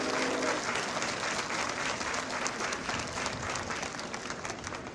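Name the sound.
audience applause for school drumline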